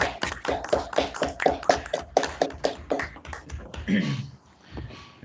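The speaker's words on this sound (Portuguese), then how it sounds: "Vamos aplaudir" A small seminar audience at a university algebra lecture claps after the talk, a modest group of hands tapping in quick irregular bursts, close and fairly clear, thinning out and fading near the end.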